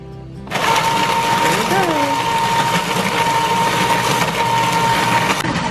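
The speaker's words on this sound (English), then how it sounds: "And now let's start the machine." A Pioneer Woman ice cream maker motor starts up and runs with a loud, steady electric hum and whine close by, continuing evenly for several seconds before cutting off.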